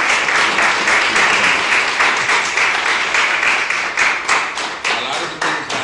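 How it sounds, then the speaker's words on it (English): Sustained audience applause for award recipients at a ceremony honoring outstanding Hispanic community members, dense steady clapping throughout with a few louder individual claps near the end. "I'd like everybody to applaud for all the recipients."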